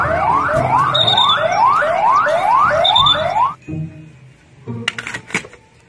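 A toy police traffic car's siren wails in repeated rising sweeps for several seconds, loud and close, then cuts off, followed by a few clicks and rattles of the toy being handled.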